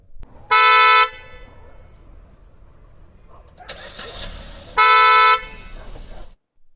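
Original Hyundai Creta horn fitted to a Maruti Brezza sounds two loud, sharp blasts of about half a second each, separated by a few seconds of low background noise and faint voices.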